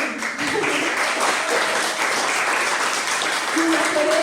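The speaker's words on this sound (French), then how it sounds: "Ça vaut l'applaudissement." Audience applause at a launch event for a youth workplace anti-harassment project, steady dense clapping filling the whole stretch, with a few faint voices and brief tonal sounds underneath.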